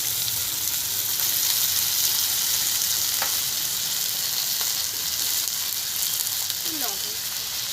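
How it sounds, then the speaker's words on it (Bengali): Tender eggplant pieces fry in a pan with a loud, continuous close-up sizzle and hiss, broken by a few soft scrapes and clinks of stirring. "বেগুন কচি সবগুলো একটু ভালো করে ভেজে নেব।"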